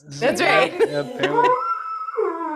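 A voice imitates a dog's howl, a drawn-out rising and falling wail following conversational speech and laughter, close and clear.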